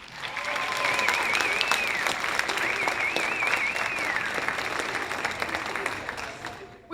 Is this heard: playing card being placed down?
no